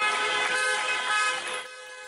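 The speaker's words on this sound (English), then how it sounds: "Taxi drivers in Barcelona honked their horns in unison" Several taxi horns in Barcelona blare together in a sustained, loud chorus for about two seconds, then trail off slightly.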